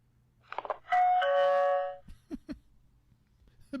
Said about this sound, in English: The bear rings the bell.